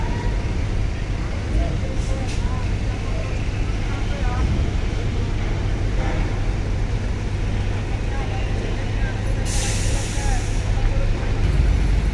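Large tour buses, Sinar Jaya and other coaches, idle in a queue at a night ferry dock: a steady low diesel rumble holds throughout with distant traffic, and people talk over it.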